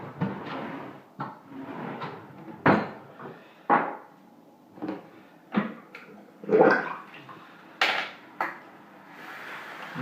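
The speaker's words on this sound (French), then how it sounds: "Je lave le bol." A shaving bowl is washed under running water, giving bursts of splashing, rinsing and clinking at close range in uneven pulses, with no talk.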